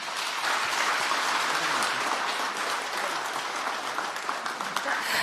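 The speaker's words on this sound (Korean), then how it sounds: "여러분 다시 한번 뜨거운 박수 부탁드립니다" Warm applause from a seated crowd at a Parents' Day ceremony, a dense, steady patter of many hands clapping that holds evenly from start to finish with no voices over it.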